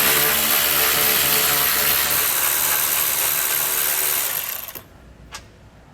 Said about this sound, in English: Using a 10mm socket to remove these.